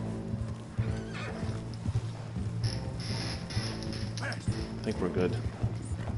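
A horse in Red Dead Redemption 2 neighs and whinnies, its hooves clip-clopping steadily along beneath someone talking over the game's ambient sound.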